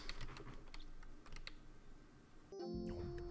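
Rapid keystrokes on a computer keyboard while playing the typing section of the game Frog Fractions, a quick clicking patter that stops as game sounds take over.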